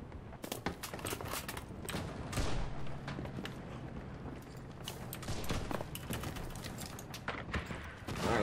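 Gunfire in the video game Enlisted during the Battle of Stalingrad street fighting: scattered sharp shots and short bursts at irregular intervals, some close and some distant, over a rumbling battlefield background.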